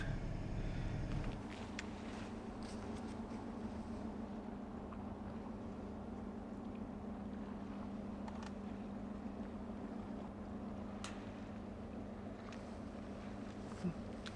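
A faint, steady motor drone hums in the distance as a boat cruises across water in Lofoten, Norway, with a slightly louder start that settles into an even hum.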